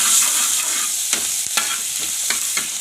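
Curry leaves, ginger and garlic sizzle loudly in hot oil, a dense steady crackle with a few soft scrapes of stirring and no voices.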